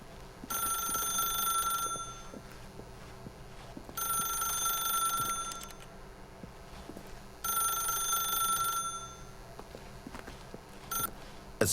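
A telephone rings in the video game The Stanley Parable, three bright electronic bursts of about one and a half seconds each, evenly spaced with quiet gaps, clear and close over a faint room hum.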